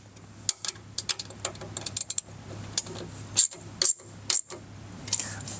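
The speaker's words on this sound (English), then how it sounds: "And we'll go ahead, fully tighten that down." Rapid metallic clicks from a ratchet tightening a mud flap bolt on the trailing arm of a 2024 Polaris RZR XP, sounding close up in short irregular bursts with brief pauses.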